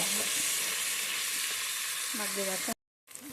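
Peanut and coconut paste frying in a curry pan gives a loud, steady hiss and sizzle close up, broken by faint scraping and a voice, then cut by a short silence before resuming.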